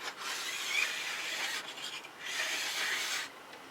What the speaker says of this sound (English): just dragging the file guide along, getting that edge nice and sharp